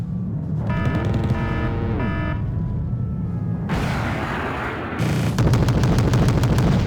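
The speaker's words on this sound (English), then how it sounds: "Oh, crap, that sounds like an autocannon." Autocannon fire and battle noise from the video game Wargame Red Dragon. A dense, steady bed of combat rumbles along with rapid repeated bursts of firing, and later stretches grow louder and harsher.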